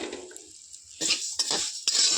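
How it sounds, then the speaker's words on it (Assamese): Vermicelli frying in hot ghee in a kadai on a gas stove, a quiet sizzle at first, then sharp scraping and clinking strokes of a spatula against the pan. "চেৱাইখিনি ধুনীয়াকৈ ভাজি লওঁ"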